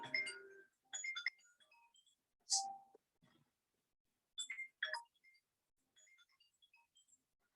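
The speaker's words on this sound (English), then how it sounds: "I got a phone call." A phone rings with an incoming call indoors during an exercise session. Its short electronic melodic tones come in spaced bursts with quiet gaps between them, and the sound is fairly soft.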